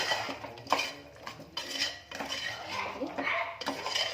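Field beans (avarekalu) and water get stirred in a metal pot, producing repeated close scraping, clinking and sloshing strokes in an uneven rhythm.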